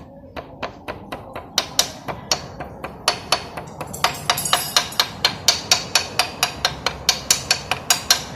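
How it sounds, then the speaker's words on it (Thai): A hammer taps a new swing arm bearing seal into a Yamaha Nouvo scooter's swing arm, a long run of sharp, close metallic knocks that start sparse and settle into a quick, even rhythm. "แล้วตอกไปแค่ซีนเนี่ยนะครับ เสมอกับผิวชิ้นงานนะครับ ค่อย ๆตอกค่อย ๆ เคาะไล่ ๆ ไปนะครับ"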